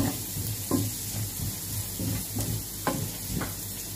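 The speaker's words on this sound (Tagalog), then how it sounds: "Ito ko igigisa para magkaroon ng lasa ang aking carbonara sauce" Bacon and aromatics sautéing in a pan for a carbonara sauce, a soft, steady sizzle broken by repeated scraping stir strokes at a fairly regular pace, with no talking.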